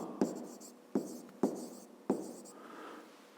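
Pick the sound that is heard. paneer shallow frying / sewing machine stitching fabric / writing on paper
writing on paper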